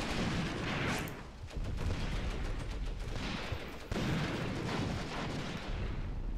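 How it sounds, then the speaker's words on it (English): Sustained battle din from the Cross of Iron war game on the Mius Front, with German defense under machine gun fire: dense, continuous rattling and booming gunfire, loud and steady throughout, briefly dipping then resuming without pause. "that machine gun is killing a lot of Germans"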